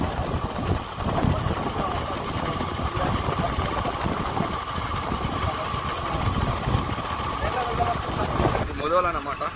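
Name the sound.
motorbike engine while riding to Nizamabad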